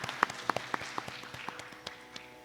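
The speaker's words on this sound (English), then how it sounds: "A big round of applause to Guru Calai Chandrasekaran." Applause from an audience at a Bharatanatyam arangetram, heard as a sparse scatter of claps that tapers off over a couple of seconds, fairly faint and distant in a large hall.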